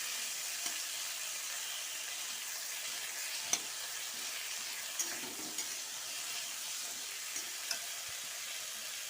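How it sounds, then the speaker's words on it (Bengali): Potatoes and green chillies frying in a pan, a loud continuous close hiss and crackle with a few faint spatula taps and scrapes underneath. "তারপরে আলু আর কাঁচা লঙ্কাগুলো আমি দিয়ে দিলাম, দিয়ে একটু নাড়াচাড়া করে নিই"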